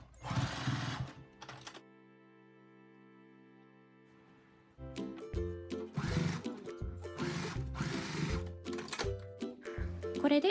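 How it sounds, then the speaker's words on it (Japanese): A sewing machine stitches the sides of a fabric face mask with elastic tucked in, running in quick bursts of rapid mechanical whirring, separated by a quieter stretch of low hum, close and fairly soft. "ゴムを一緒に縫い込まないように注意して縫ってください。"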